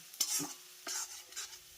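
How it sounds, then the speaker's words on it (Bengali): Ginger and garlic frying on a low flame, with a few separate scraping stirs against the pan over a faint, quiet sizzle. "এবার লো ফ্লেমে আমি আদা রসুনটাকে একটু হালকা করে ভেজে নেব"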